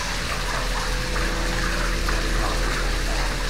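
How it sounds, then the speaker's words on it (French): Underground river rushing through a cave, a steady loud wash of flowing water echoing without pause. "ça c'est la rivière souterraine"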